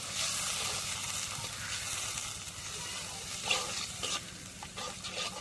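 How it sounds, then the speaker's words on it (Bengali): Cumin and garlic paste frying in a pan as it is stirred, a steady close sizzle with scraping stirs, and a voice faintly audible in the background. "এখন একটু নাড়া দিই"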